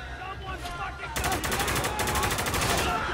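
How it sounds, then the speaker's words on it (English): Turret machine gun fire in Spec Ops: The Line opens up as a sustained rapid burst of loud, rattling shots after a second of quieter battle noise, continuing steadily to the end. "That turret's gonna rip us in half!"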